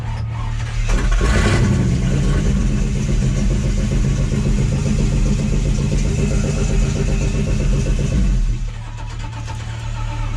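A Suburban truck engine fitted with an Edelbrock carburetor cranks, catches and runs loud and steady close by for several seconds, then cuts off abruptly near the end with a quieter rumble trailing behind.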